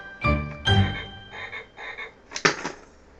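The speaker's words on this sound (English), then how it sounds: "Now it's frog." A toy with animal sounds plays a recorded frog croaking, several harmonic, electronic-sounding croaks in a short rhythmic series, close and clear with no talking.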